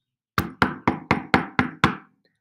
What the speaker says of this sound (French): Le loup frappe, F-R-A-P-P-E, à la porte.